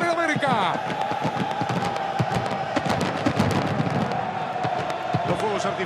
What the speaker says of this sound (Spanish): Los fuegos artificiales allí a las espaldas del sector tradicional que ocupa en la cabecera la gente de San Lorenzo de Almagro